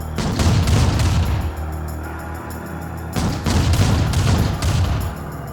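Rocket infantry fire at an Orca aircraft in the Command & Conquer Remastered video game, heard as two loud bursts of rapid booming shots separated by a short lull.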